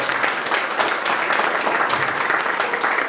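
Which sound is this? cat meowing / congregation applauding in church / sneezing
congregation applauding in church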